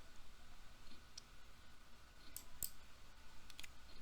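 A computer mouse gives a few sharp, faint clicks, spaced irregularly, against a quiet room hum with no talking.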